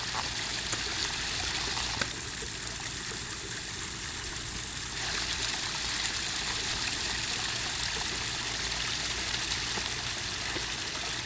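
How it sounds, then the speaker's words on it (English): A garden pond waterfall splashes steadily and close, a continuous even rush of falling water trickling into the pond with no voices over it. "here's my waterfall and pond."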